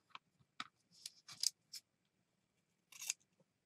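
Scissors trimming a scrap of fabric, several crisp separate snips close by, with a short pause before a final pair of cuts in an otherwise quiet room.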